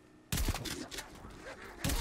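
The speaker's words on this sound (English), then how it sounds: "I don't know why I'm shooting them because I can knife them" Gunfire against zombies in Call of Duty Zombies mode: a loud burst of close shots, a brief drop in intensity, then another volley near the end.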